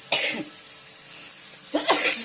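Two separate coughs sound close up, one near the start and one near the end, with a quiet pause between them.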